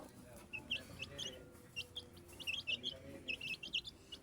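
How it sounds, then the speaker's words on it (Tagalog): Healthy young chicks in a coop give thin, high chirps and peeps in scattered short bursts, some doubled, fairly faint against a quiet background with no talking. "ang aking mga sisiw, malulusog"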